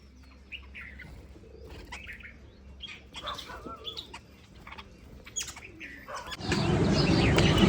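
Birds chirp and call intermittently in the foreground, then a loud burst of rushing wing flaps erupts near the end as a flock takes off close by.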